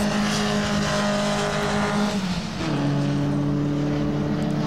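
Formula Vee race cars at Snetterton in 2012 drone loudly and steadily past, a continuous engine roar with a pitch drop partway through as one car passes and another follows close behind.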